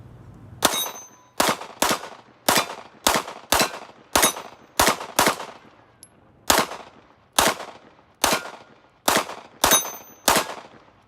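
Single shots from a Smith & Wesson M&P 2.0 Compact 9mm striker-fired pistol at an outdoor range, about fifteen sharp loud cracks in a steady paced rhythm with brief ringing decay and a gap midway.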